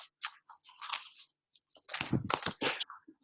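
A sheet of paper is handled and pulled up close, with short crinkling and rustling bursts separated by silences and a louder crumpling cluster near the end.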